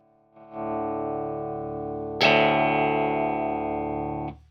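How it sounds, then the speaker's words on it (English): A loud, distorted electric guitar chord rings out through an amplifier cranked through Celestion Peacekeeper, sustained, then a second harder-struck chord jumps even louder before cutting off. "I'm going to see if I can crank this amplifier through the Peacekeepers without anybody dying"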